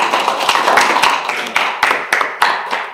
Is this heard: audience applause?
yes